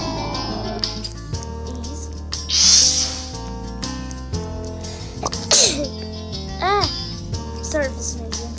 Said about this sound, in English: Sorry for sneezing.